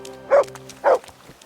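A dog in the video game Kingdom Come Deliverance 2 gives two short, close barks about half a second apart, clear against a quiet background.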